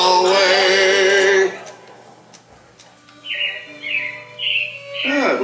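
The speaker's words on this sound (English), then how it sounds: "It looks like the robins are getting ready to celebrate." Robins chirp in short, repeated high tweets after a loud stretch of music fades, the calls coming in several brief bursts at moderate volume over a quiet background.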